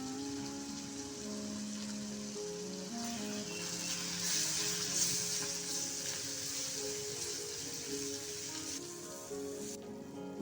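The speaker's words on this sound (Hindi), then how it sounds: "मसाले अच्छे से भुन गए हैं" Kolhapuri masala spice paste sizzles and fries in oil with a little water added, a steady close crackle with faint stirring throughout.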